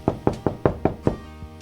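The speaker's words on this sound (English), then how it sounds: "She knocked at the door." Six quick, sharp knocks on a wooden cottage door in an even rhythm, close and clear, followed by one softer tap.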